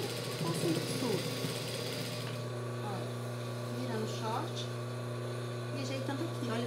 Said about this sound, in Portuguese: vamos virando ele e passando a costura